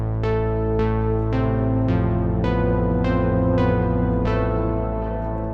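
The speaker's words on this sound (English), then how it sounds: "dark neon plugged patch." A dark neon synth patch from the Pigments synthesizer plays alone, with a dense low sustained drone under a repeating series of bright plucked attacks roughly every half second, loud and steady throughout.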